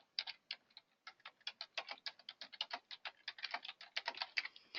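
Quick, irregular clicks of fingers typing on a computer keyboard, close and quiet, a steady run of light taps with no voices.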